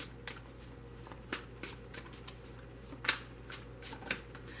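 Soft, crisp tarot card shuffling in short bursts, close by and fairly quiet, over a low steady hum.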